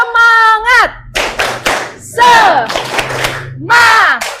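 A classroom of students performs the 'tepuk semangat' clap chant: loud group voices call out in bursts between rhythmic rounds of hand clapping, close and energetic.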